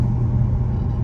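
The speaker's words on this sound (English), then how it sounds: "You can hear the intake on this. It sounds like it's breathing fire." A Chrysler 300C SRT8 V8 on a stock exhaust gives a deep, steady intake roar heard from inside the car, loud and continuous for about a second.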